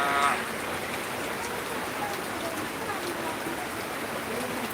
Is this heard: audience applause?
no